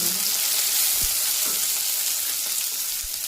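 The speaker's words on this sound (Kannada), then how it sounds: "ಈರುಳ್ಳಿ ಫ್ರೈ ಆಗ್ತಿದೆ." Onions frying in a pan for Udupi-style idli sambar, a steady close crackling sizzle with a few soft stirring knocks, no talk.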